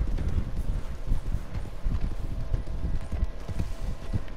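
Horse hooves galloping fast in the Red Dead Online video game, a dense continuous drumming of heavy thuds over a low rumble, loud and close with no talking.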